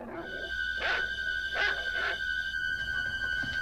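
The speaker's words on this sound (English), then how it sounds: "What is he barking at?" A dog barks three or four times in short, sharp bursts during a scene from the horror film Halloween. A steady high tone runs beneath the barks in the film's soundtrack.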